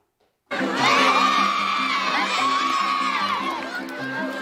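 Children shout and cheer at a school sports day, a dense, loud crowd roar of young voices that holds steady for several seconds after a sudden start.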